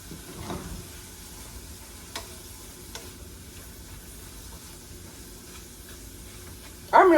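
Sausages frying in a pan, a low steady sizzle running quietly throughout, with a couple of faint clicks and a brief louder hiss at the very end.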